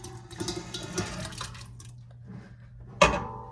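Blackberries and their juice poured into a bowl in a home kitchen: a wet, splashy pouring run for a couple of seconds that tapers off, then a sharp clink of a container near the end.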